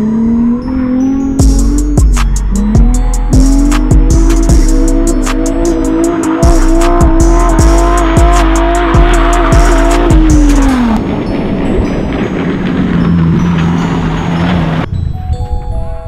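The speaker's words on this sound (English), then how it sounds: "because the tires are so much more slippery, we just looped it" A Nissan 350Z spins out on a track, its tires squealing in long, loud, wavering tones over a high-revving engine, with rhythmic clicks, before the noise fades to a lower idle-like drone.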